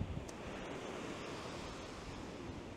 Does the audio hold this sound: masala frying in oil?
no